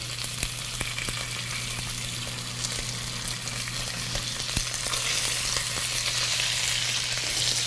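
Chunks of meat fry in a hot pan with a dense, loud, continuous sizzle and scattered crackles, close up and without talk.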